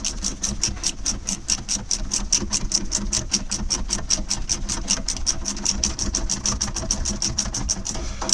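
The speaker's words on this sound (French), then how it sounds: "on va pouvoir maintenant la visser avec notre cliquet" Ratchet wrench tightening a screw on the rear suspension of a Renault Clio 3, a fast, even run of crisp metallic clicks repeating steadily close up, with no talking.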